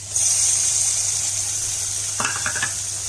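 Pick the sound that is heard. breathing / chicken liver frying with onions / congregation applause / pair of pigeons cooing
chicken liver frying with onions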